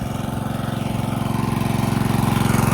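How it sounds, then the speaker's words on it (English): An engine-driven pump on a flooded farm runs steadily, pumping water through a pipe into a dike; a close, rhythmic chugging drone that stays even and grows slightly louder, with no voices. "So here is the engine or the pump"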